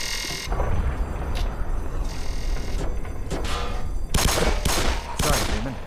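Gunfire aimed at a zombie in the Black Mesa video game: loud bursts of rapid shots in several clusters, with a dense volley near the end over a steady background rumble.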